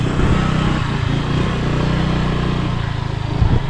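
A motorboat engine runs steadily, a loud, continuous droning rumble that fills the whole stretch without pause and with no clear talking over it.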